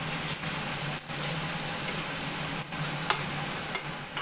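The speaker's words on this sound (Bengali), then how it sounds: "তো দেখো চিকেনটা থেকে তেল ছেড়ে দিয়েছে হালকা হালকা" Chicken pieces fry steadily in oil for a pizza topping, giving a continuous close sizzle with faint stirring scrapes and no voices.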